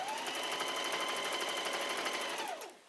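A sewing machine runs steadily through jacket lining and facing, a fast close rhythmic needle clatter with motor whine that holds evenly for a few seconds before slowing to a stop.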